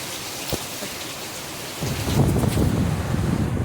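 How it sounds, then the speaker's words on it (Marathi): Sudden heavy unseasonal rain pours steadily as a dense, loud hiss, swelling stronger after a brief sharp crack partway through. "अचानक एवढा मोठा पाऊस चालू आहे"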